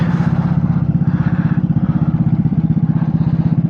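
A Vespa scooter engine idles close by with a steady, rapid thumping pulse and a slight rattle, loud and even throughout.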